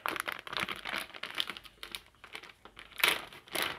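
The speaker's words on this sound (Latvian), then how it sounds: "antistatiskais maisiņš." A small antistatic bag crinkles as it is opened, giving several quick plastic rustles close to the listener at low volume.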